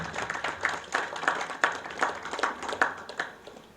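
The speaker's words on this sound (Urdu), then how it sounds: "اب میں چاہوں گا کہ ڈاکٹر حنا کو بھی آپ ایسی ہی بھرپور تالیوں میں اسٹیج پر مدعو کرنا چاہوں گا۔" A seated audience at a literary forum evening in Karachi claps to welcome Dr. Hina to the stage, a fairly soft, slightly distant patter of many hands with a loose, uneven rhythm.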